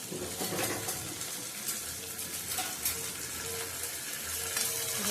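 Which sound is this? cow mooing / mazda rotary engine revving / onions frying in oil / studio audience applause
onions frying in oil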